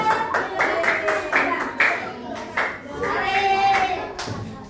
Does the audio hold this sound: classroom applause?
yes